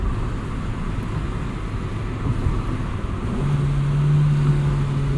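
A 1999 Honda Civic Si heard from inside while driving: a steady loud engine drone and road rumble, with the engine note rising into a higher pitched tone near the end, no talking.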